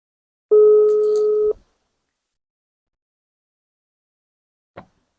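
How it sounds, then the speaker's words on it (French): An outgoing telephone call produces one steady ringback tone of about a second, then silence, then a brief click near the end. "Donc, je l'appelle."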